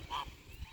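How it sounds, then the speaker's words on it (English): A single goose gives one short, faint honk from a distance in the open air near water in Clermont, Queensland, with quiet outdoor background and no talk. "I don't know if Pepper's seen a duck or a goose before"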